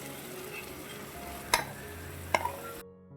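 Grated chana dal stirred and fried in a cooked spice masala for dal puri filling, a soft steady sizzle with two sharp spoon knocks against the pan, close and quiet.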